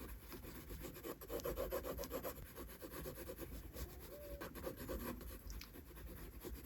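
A pencil lightly shades a nose on paper, giving soft, continuous scratchy strokes in a back-and-forth rhythm, close and quiet, with no talking.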